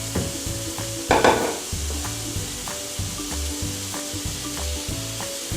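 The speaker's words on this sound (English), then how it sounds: "Gently place the pineapple slices." Pineapple slices laid onto a hot grill pan, a close sizzle with a sharp burst of hiss as one slice goes down, then repeated soft clacks and scrapes over a steady fry.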